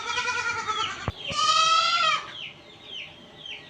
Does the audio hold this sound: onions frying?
no